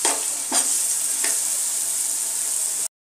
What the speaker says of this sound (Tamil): அடி பிடிச்சிரும் கொஞ்சம் கைவிடாமல் கொஞ்சம் கிண்டி விட்டுட்டே இருக்கணும்